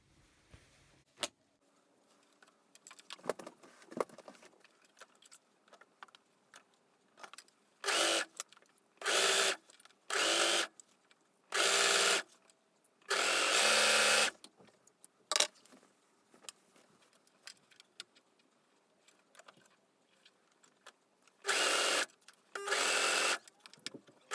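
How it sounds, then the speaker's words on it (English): An overlocker stitches jersey sleeves onto a top bodice in several short, loud runs of rapid whirring, separated by quieter handling noises and pauses. "I'm just going to put these through my overlocker."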